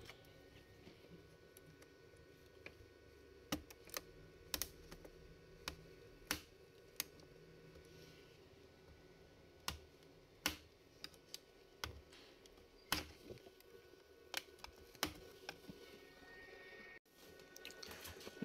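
Laptop keyboard being pried open for repair: scattered small clicks, snaps and plastic ticks at irregular intervals over a faint steady hiss, quiet and close.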